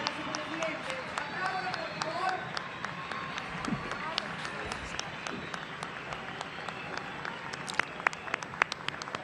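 An audience applauds at an event in Patagonia welcoming the Russian president, a faint, distant patter of clapping with crowd murmur beneath.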